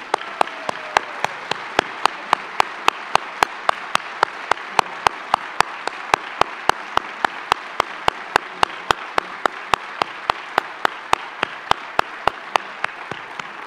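Audience applause at a regional government State of the Region 2021 address, a steady wash of many hands clapping throughout, with sharp regularly spaced clicks cutting through the crowd sound.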